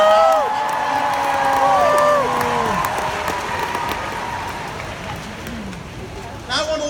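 Applause and cheering from a crowd at a WE Day event, loud at first and then tapering off, with voices and whoops over the clapping.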